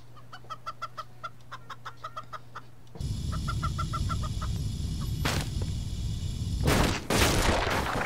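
A token bird clucks in the physics game Turbo Dismount, a rapid series of chicken-like clucks, first alone and then over a loud rumbling crash with sharp impact bursts.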